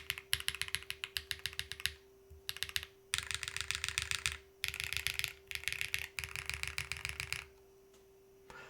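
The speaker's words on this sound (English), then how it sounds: "Ooh, jeez, again, I'm typing on this." Bursts of crisp clacky typing on a QK Alice Duo split mechanical keyboard come in fast runs with short pauses, close and clear over a faint steady electrical hum.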